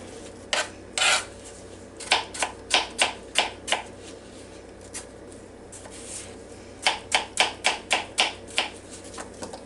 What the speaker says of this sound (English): I just cut out the center part and just peel it